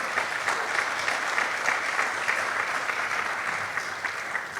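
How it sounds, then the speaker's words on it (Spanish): Applause from a congregation during a Spanish-language church service, a dense, steady roar of many hands clapping together that holds evenly throughout. "Dale un aplauso a tu Señor, a tu Rey."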